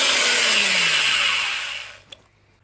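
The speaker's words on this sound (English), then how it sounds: "I'm just gonna be like a dentist and go on with a drill to clear the cavity." A power drill bores into a seeping garage wall to clear a cavity, a loud high whirring grind that winds down and stops, followed by a single faint click in the quiet.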